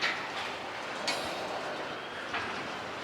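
A freight train rumbles past at a steady level while slowing, with broad rushing noise and a few brief metallic bursts from the wheels.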